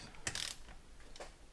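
A ratchet wrench tightening bolts on a 2014 Ford Focus ST transmission, a quick burst of close ratcheting clicks followed by a quieter second burst after a short pause.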